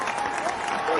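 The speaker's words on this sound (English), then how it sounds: "So I would like to give you a round of applause" A brief round of applause from an audience at a parenting symposium session, steady clapping for about a second.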